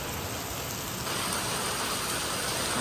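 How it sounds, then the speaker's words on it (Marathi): Heavy rain pours steadily and loudly onto a street and parked vehicles, a dense continuous hiss with no voices and no letup. "पाऊस कसला जोरात पडालाय"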